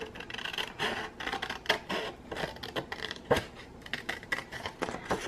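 Scissors cutting paper for a handmade book pocket, a run of close crisp snips and rustling scrapes in irregular bursts, quiet and with no voices.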